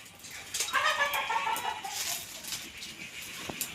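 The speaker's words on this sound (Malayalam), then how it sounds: "കോഴിക്കള് വിട്ട് നമുക്കൊരു കളിയില്ല" Backyard chickens at a home cluck in a short cluster of calls, fairly close, then trail off into quieter scratching and background noise.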